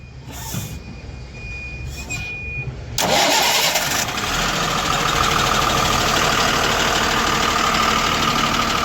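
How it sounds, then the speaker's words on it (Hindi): A Tata BS4 truck diesel engine cranks briefly and catches after a couple of faint clicks and a warning beep, then settles into a loud, steady idle close by, with no talk. "अब चेक करेंगे चालू करके कि हमारा गाड़ी चालू हो रहा है या नहीं"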